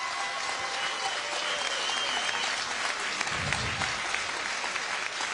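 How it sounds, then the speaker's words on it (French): A boxing arena crowd applauds two fighters after a bout, a dense sustained wash of clapping from many hands, loud and continuous throughout with a low murmur swelling briefly in the middle. "Bonne main d'applaudissements pour les 2 guerriers."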